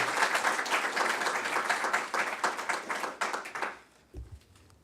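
An audience applauds to welcome a guest speaker, a dense sustained clapping that carries for several seconds before thinning out into a few scattered claps and falling quiet.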